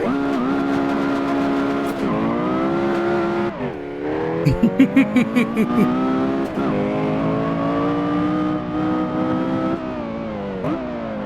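A Porsche Carrera GT engine revs hard through repeated rising sweeps, climbing in pitch, dropping sharply at each shift, with a brief burst of rapid brake chatter midway; loud, close and with no talking.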